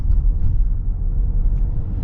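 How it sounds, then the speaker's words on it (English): The 2025 Jeep Wagoneer Carbide engine idles smoothly, a steady low rumble heard up close with no talk over it. "Engine's super smooth."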